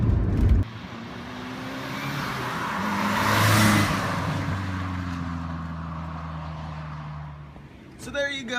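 A Merkur XR4Ti engine drones steadily while the car is driven on a road trip, with a low rumble and a rise in revs mid-clip; a person talks over it.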